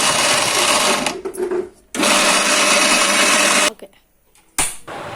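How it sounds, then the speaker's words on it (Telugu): Kitchen mixie grinding peeled, washed onions: loud whirring bursts of the motor with short pauses between pulses, close up and without talk. "రెండు ఉల్లిపాయలు తీసుకొని తొక్కలు ఒలుసుకొని కడుక్కొని మిక్సీ గిన్నెలో వేసుకొని మిక్సీ పెట్టుకోవాలి"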